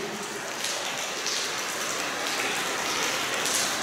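Heavy rain pours down steadily outdoors at night, a dense, continuous hiss of drops striking surfaces that stays loud and even throughout with no voices.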